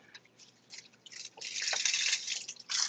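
Water poured and dripping out of an orchid pot, with faint splashes and trickles that grow louder and more continuous toward the end, close and quiet.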